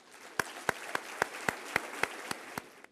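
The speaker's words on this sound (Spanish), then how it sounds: "Pido un aplauso por Sergio Laviaga." About nine sharp, evenly spaced claps ring out in a lecture hall after a keynote address, fairly faint over a quiet background, more like one or a few people clapping in rhythm than full audience applause.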